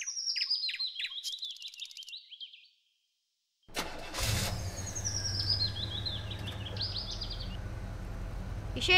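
In a children's tale, birds chirp briefly, then after a short silence a car engine cranks and starts and settles into a steady idle, with faint chirps above it.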